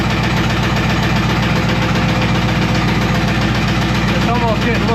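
LT1 V8 engine idling with no oil and no coolant, a loud, steady rumbling drone that continues without a break, with a person talking over it.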